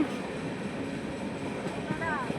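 The Tirumala Express on the Rajahmundry–Visakhapatnam route rolls into a railway station, a steady low rumble and rattle of the moving carriages heard from on board, with a faint rising squeal near the end.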